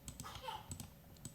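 Fast typing on a computer keyboard while data is entered: quick, light key clicks in an irregular patter, soft and close, with no speech over them.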